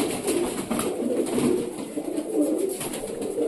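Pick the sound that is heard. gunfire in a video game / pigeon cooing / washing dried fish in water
pigeon cooing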